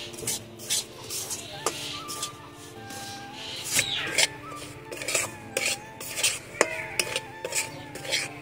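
Semolina being dry-roasted in a pan is stirred with a utensil, giving irregular scraping and clinking strokes against the metal, close and moderately quiet, with no sizzle beneath.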